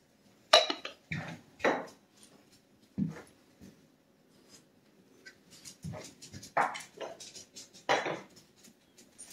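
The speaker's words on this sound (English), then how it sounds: "And we mix that up." Pepper and salt are mixed into chicken fingers, with a run of irregular clinks and knocks of utensils on a bowl. The taps are fairly close and spaced out, with quiet gaps between them.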